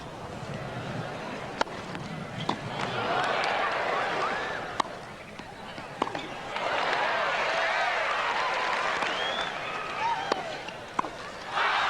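Crowd noise swells and cheers at a 1989 US Open semifinal tennis match, rising in two long waves with sharp ball strikes popping through, while commentators talk over it.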